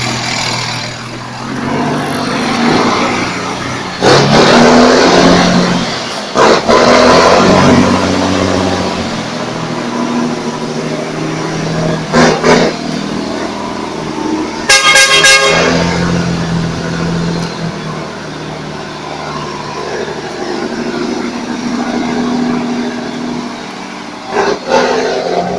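A Ford car drives off nearby, its engine rising in revs with a short burst of horn honks partway through, amid outdoor street noise.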